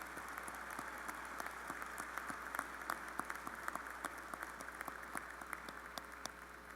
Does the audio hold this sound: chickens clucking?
no